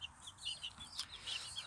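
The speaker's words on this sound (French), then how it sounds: "Alors ici il y a une poule en plus." A hen on a small homestead clucks and chirps in a short run of soft, fairly close calls, with no talking over it.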